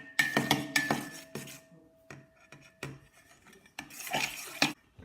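Homemade slime mixture without borax stirred in a bowl until dissolved, giving scraping, clinking strokes of a utensil against the bowl in irregular bursts with quiet gaps, close and fairly clear, no voices.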